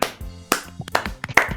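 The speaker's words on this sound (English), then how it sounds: "let's give another round of applause to our good friend, Mr. RMUG." Scattered hand claps from a few people, irregular and fairly close, lasting under two seconds.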